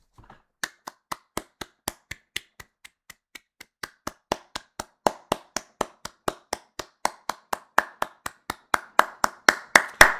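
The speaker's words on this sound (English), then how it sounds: "That applause was meant for you." Sharp, evenly spaced hand claps in a steady rhythm start quiet and sparse, then grow louder and fuller toward the end, with no talking.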